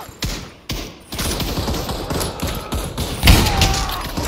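A grenade goes off in the Pavlov VR World War II shooter near the end, a sudden loud blast after several sharp thumps and bursts of gunfire.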